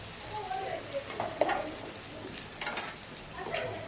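Food is sautéed in a pan over a home stove for a pirandai dish, giving a low continuous frying sizzle with a few brief clinks and scrapes of a utensil, at moderate volume.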